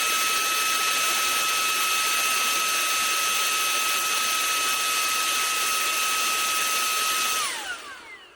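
A Shark WV200C WandVac handheld vacuum, its container empty and filter cleaned, whines loudly with a steady high-pitched motor tone, then cuts out abruptly near the end as the pitch falls and the sound winds down.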